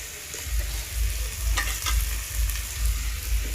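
Pineapple recipe ingredients fry in a pan over low gas, sizzling steadily and close up, with a few scraping stirs and soft clinks partway through and no talking.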